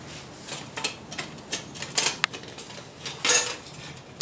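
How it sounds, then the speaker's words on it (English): A Sterno folding pocket stove, a flat metal stove for jellied alcohol, is snapped together with a series of sharp, close metallic clicks and clacks scattered irregularly over a few seconds, with no talking. "It's called a pocket stove, and it just snaps together."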